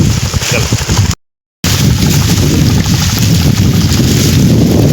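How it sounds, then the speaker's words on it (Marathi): Wind buffets the microphone in steady rough gusts on a farm field, with a brief dropout early on, and faint voices underneath. "वारले सुटले."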